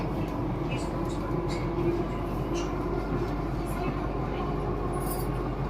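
Steady low rumble and hum inside a Delhi metro train running near Noida Sector 34, a continuous rolling drone with faint higher whines, heard throughout with no distinct breaks.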